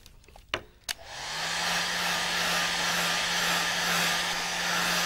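Two clicks are followed by a hair dryer switching on and blowing steadily, loud and close, while it dries a watercolour still life painting of fruit.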